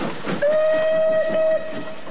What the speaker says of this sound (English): This train uses a different fuel, diesel oil.